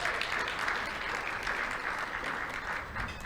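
Audience clapping at an event on service and volunteerism, a dense, even wash of applause that holds steady from start to finish.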